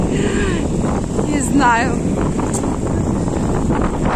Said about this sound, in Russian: Боже, какой ветер, серьезненький.